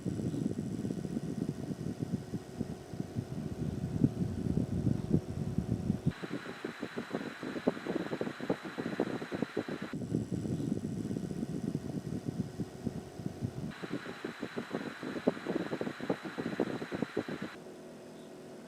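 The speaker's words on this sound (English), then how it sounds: "Note how quiet these fans are." Heat-powered fans on a DIY burner and copper air heater run with a soft, steady whir, shifting between lower and higher tones in alternating stretches, faint and close with no talk.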